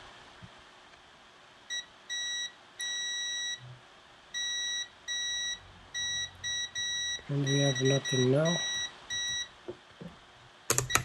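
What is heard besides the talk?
Mastergames Famiclone console beeping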